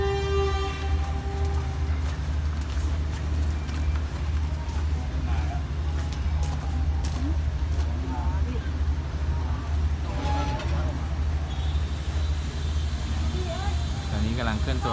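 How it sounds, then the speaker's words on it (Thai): Rapid Train 172, running from Sungai Kolok to Bangkok, pulls out of Ban Pong railway station in Thailand with a constant low rumble and scattered rattles and squeaks, while someone talks over it. "ตอนนี้กำลังเคลื่อนตัวออกจากสถานีรถไฟบ้านโป่งนะครับ"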